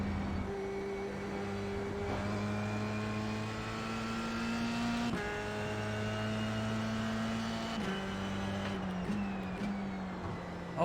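Race car engines drone continuously in iRacing played in VR, several sustained engine tones rising and falling together with gear-shift dips, a steady, fairly loud motor roar with no talk.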